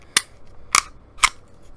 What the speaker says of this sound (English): All right, we're going to pull the trigger here.